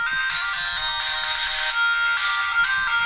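A Pandora's Box Retroid handheld game console plays through its small built-in speaker at high volume, a bright, thin tone lacking bass that runs steadily throughout.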